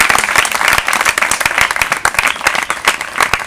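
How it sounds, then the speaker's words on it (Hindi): A school crowd of children claps to welcome a guest, a lively, loud patter of many hands with individual sharp claps standing out, continuous throughout. "हमारे स्कूल की तरफ से हम सभी बच्चे तालियों से"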